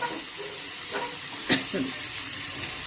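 Cumin seeds and dried red chillies sizzle in hot oil as a tempering for a home-cooked dish, a steady, even crackle with a few faint utensil clinks and stirring noises over it.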